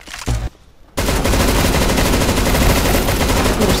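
Gunfire in CS:GO opens with a brief burst, drops into a moment of near quiet, then breaks into a loud continuous stream of rapid automatic fire that runs to the end.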